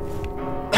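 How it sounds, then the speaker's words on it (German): Single short cough near the end of a quiet stretch, a brief loud burst over low background hum from a PC game session. "Ja, tut mir leid, ich habe Husten."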